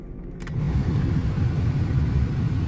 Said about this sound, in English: To check its airflow, you simply run the blower on high.